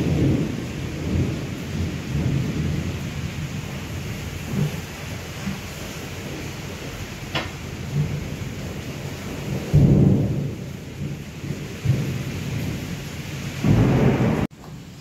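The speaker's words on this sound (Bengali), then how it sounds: "কি জোর বিদ্যুৎ চমকাচ্ছে, আর রাতুল তত বেশি ভয় পাচ্ছে" Heavy thunderstorm with steady rain and rolling rumbles of thunder, loud and close, swelling in several surges over a constant wash of rainfall.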